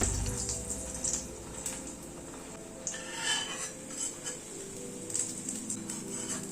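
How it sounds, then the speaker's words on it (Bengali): Bread slices frying in hot oil over a lowered gas flame give a steady, soft sizzle with scattered crackles and pops, plus a few faint utensil clinks against the pan; fairly quiet and close, with no talking. "গ্যাসের ফ্লেমটাকে কমিয়ে নিয়ে পাউরুটিটা ভেজে নিচ্ছি।"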